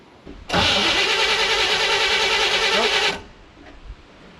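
A 1960 El Camino's starter cranks the engine for about two and a half seconds in a steady, rapid churning without the engine firing, then cuts off and leaves quiet.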